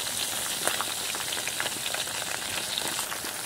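Mango pickle with sugar stirred in a pan, a steady soft sizzle with faint scraping texture throughout, close and unbroken, no voices.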